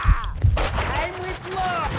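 Gunfire in the video game Max Payne 2: a quick burst of sharp shots crackles near the start, followed by ringing, echoing reverberant tails and rumbling game ambience.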